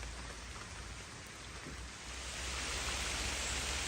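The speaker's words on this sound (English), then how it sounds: "It's raining worse than what it was before." Steady rain falls outdoors on the bank of Catfield Dyke in the Norfolk Broads during a fishing session, a dense even hiss that grows slightly heavier halfway through, with no voices.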